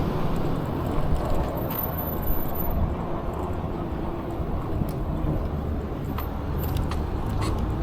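Truck tires spinning on a road during a December commute, heard as a steady, dense rumble of road and engine noise that holds at an even level throughout, with no clear voices.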